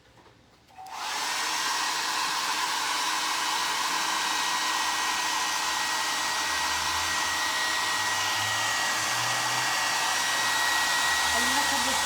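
A hair dryer switches on after a second and blows continuously at close range to dry paint on a plaster piece, a loud steady whoosh with a faint whine.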